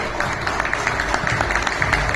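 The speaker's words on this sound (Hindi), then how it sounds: "एक बार जोरदार तालियां सर के लिए" Audience applause for a guest being called to the stage at an inauguration ceremony for a new BJ Park development project, a steady wash of scattered clapping at moderate level with no voices over it.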